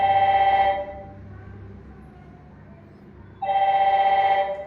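A telephone rings in a training-centre office, one loud electronic ring burst at the start, a pause of quiet room noise, then a second ring; no one speaks over it.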